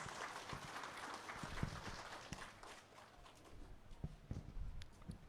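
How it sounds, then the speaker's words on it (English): Audience applause at a celebration event honoring patriots, a steady wash of clapping with scattered sharper claps, moderately faint and fairly distant, continuing throughout without talk. "Can I have a huge round of applause?"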